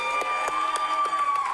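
Audience at an improv comedy show cheers and whoops in a steady, continuous crowd roar, with sharp individual shouts rising above it at regular intervals.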